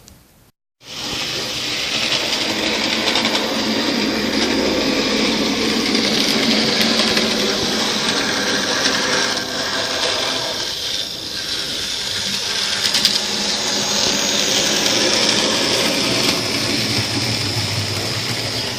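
Model train locomotive running on track, a continuous close mechanical whirr and rattle that holds steady for nearly twenty seconds after a brief silent start.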